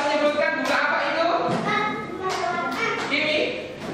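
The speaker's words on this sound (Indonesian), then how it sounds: "Bagus, tepuk tangan buat Yura." Second-grade pupils in a classroom clap for a classmate, a loose patter of small hands with a few thumps while children's voices chatter over it.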